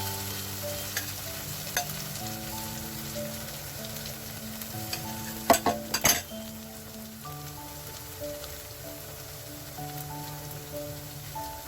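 Ghevar batter poured into hot oil for a halwai-style lacy ghevar, giving a steady frying hiss throughout with a few brief louder bursts midway, and no talking.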